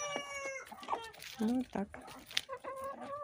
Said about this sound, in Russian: Чем я кормлю своих курочек. Ну вот, сейчас у них капуста.